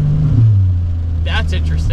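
A turbocharged Atlas 4200 inline-six engine in a Trailblazer revs with a loud, steady low drone that holds throughout, and brief voices come in near the end.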